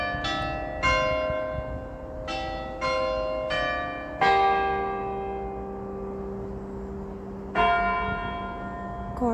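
Church bells ring out in a Scottish graveyard, several loud, resonant strikes at uneven intervals, each leaving a long ringing decay that overlaps the next.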